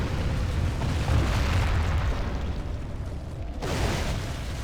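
Troops firing at will in a battle video game set in Bavaria, a dense continuous roar of booming musket and cannon fire with no clear gaps, loud and steady throughout.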